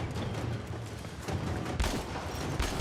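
Rockets fire in the Warframe video game, a rolling volley of blasts and gunfire with sharp bursts and a louder explosive hit near the end, mid-distance and fairly busy.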